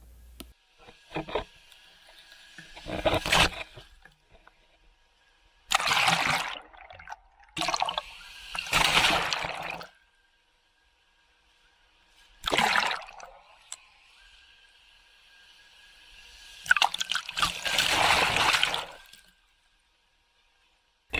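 Fountain water recorded underwater through an Osmo Pocket waterproof case, heard as several loud bursts of rushing, bubbling water separated by near-silent gaps.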